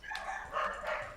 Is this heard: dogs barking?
yes